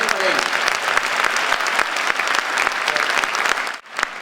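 Dense, steady audience applause fills a hall at an Assemblea Nacional Catalana event during a Toni Albà monologue, with the clapping sustained close and loud before briefly dipping near the end.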